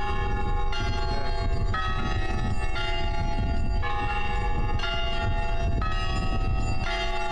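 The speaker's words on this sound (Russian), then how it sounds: "праздник колокольного звона" Church bells ring continuously in layered, overlapping peals at a bell-ringing festival held for the days of St. Nicholas and Slavic Literature in a Russian Orthodox diocese, loud and steady throughout with no voices.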